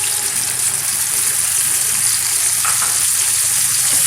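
Dal sizzles in hot desi ghee in a pan, a loud, steady frying hiss with faint stirring, close and continuous throughout.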